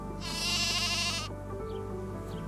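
A bighorn sheep lamb in Yellowstone gives one clear, drawn-out bleat lasting about a second, fairly close, over a quiet steady tonal background.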